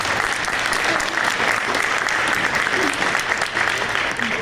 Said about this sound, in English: I want to give another round of applause for beginner band again